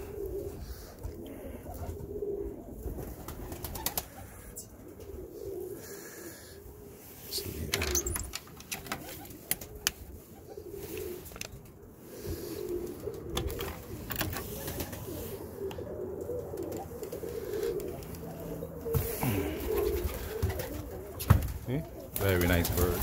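Tippler pigeons in a loft coo in low, repeated throaty phrases, with occasional wing flaps and rustling close by, and someone talks intermittently over the birds.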